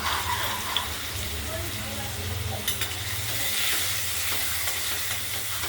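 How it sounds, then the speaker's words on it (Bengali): Potato pieces seasoned with salt and turmeric fry in a pan, giving a steady close sizzle with soft stirring scrapes and a few clinks throughout. "আলুগুলো ভাজা হচ্ছে"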